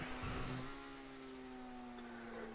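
A car engine held near max revs in GTA 5 Online, a steady high whining drone with sustained harmonic tones, moderately loud and even after an initial louder burst, no talking.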